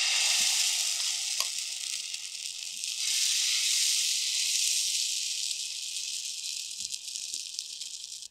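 Mushroom adai frying in oil on a hot pan gives a loud, steady broadband sizzle that swells slightly midway and runs without pause, with faint spatula scrapes underneath.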